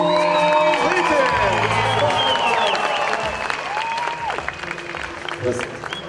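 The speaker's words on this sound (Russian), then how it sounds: "Ваши аплодисменты, дамы и господа" Crowd at a professional hand-to-hand combat event in Krasnogorsk applauds and cheers loudly, with whoops rising over dense clapping while an announcer talks over the arena noise.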